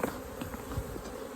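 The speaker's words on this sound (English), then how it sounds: "You see all these bees are left in the box. I'm just gonna shake them right on top here." Honeybees shaken out of a box onto the top of a hive give off a steady, soft, close buzzing hum that runs unbroken, with no voices.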